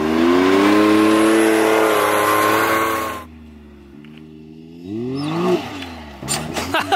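A side-by-side off-road vehicle revs loudly and accelerates toward a jump on a test track, engine note climbing steadily for about three seconds before cutting to a quiet idle, then a brief rising rev and a few sharp bursts near the end.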